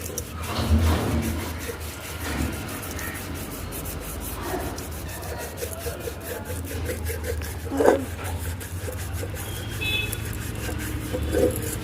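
Scrubber rubbing a surface to clean it, a steady rasping scrub repeated continuously at close range with no talk.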